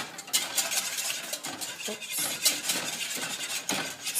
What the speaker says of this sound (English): Just keep on whisking.